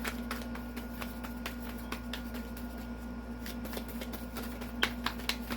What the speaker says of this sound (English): Two more shuffles and I'll pull from the top.